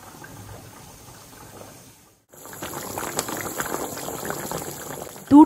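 Fish curry simmers in a pot, a soft bubbling that turns into a louder, steady boil after a brief gap, ending in a short sharp clink.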